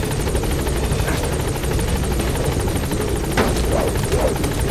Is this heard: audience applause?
no